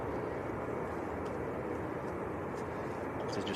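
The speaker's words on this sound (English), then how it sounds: "This is just a Ryanair on the roll at the moment." A Ryanair airliner rolls for takeoff at windy Manchester Airport, its engines a steady broad roar heard from a distance and mixed with wind noise, with no speech over it.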